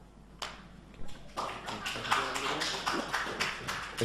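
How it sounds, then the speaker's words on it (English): Scattered audience applause at a panel discussion, irregular claps that start sparse and thicken into a light patter, fairly quiet and somewhat distant. "I think the women were applauding that."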